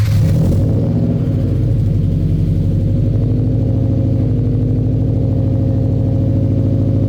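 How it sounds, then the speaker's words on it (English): Toyota 86 engine running on E85 fuel after a hard start, a loud close rumble with a brief cranking burst at the start, then a low, slightly uneven idle that holds steady throughout. "But with E85, it has a lot of trouble starting up"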